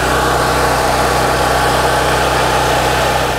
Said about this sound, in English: we can just hold down our start button until the engine gets started